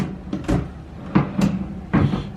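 Hotel room drawers slide and knock in quick succession, three short wooden scrapes and thuds close by in a quiet room.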